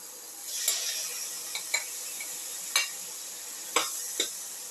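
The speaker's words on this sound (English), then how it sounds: "Mix in the rice." Rice is stirred into a simmering cauliflower tomato soup over a steady soft sizzle, with about half a dozen faint spoon scrapes and clinks against the pot at uneven intervals.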